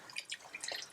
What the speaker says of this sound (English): I've got some water here, and we're just going to add it until it covers everything.